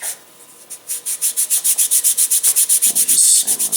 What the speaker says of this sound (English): just sand this down free-handed